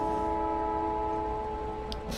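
Factorio ore train rolling into a station: a steady, sustained mechanical hum with layered tonal drones and low rumble, continuous and fairly close, with a faint brief chime near the end.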